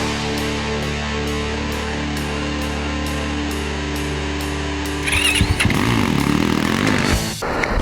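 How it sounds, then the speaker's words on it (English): A brand-new 2020 KTM 300 XCW TPI two-stroke dirt bike idles with a steady buzzing, pulsing drone, then revs sharply in several loud, rising bursts before dropping back, close and alone. "I'm on a brand new 2020 KTM 300 XCW TPI."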